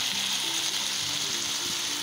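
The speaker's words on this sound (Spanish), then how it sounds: "vamos a dejar ahí que el pollo se vaya cocinando un poco" Chicken frying in a pan as the base for yellow rice, a steady soft sizzle running evenly throughout with faint low clatter underneath.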